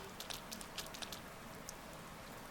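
Rain in the video game Persona 4 Golden falls as a steady, soft hiss with faint scattered droplet ticks, quiet and even throughout with no talk.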